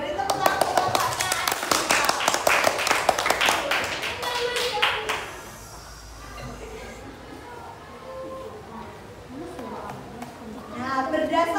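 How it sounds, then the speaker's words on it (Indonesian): A classroom group of students claps in a burst of sharp, rapid hand claps for about five seconds, then it fades into quieter room noise and talking voices, with a few scattered taps near the end. "Oke, beri tepuk tangan untuk kelompoknya"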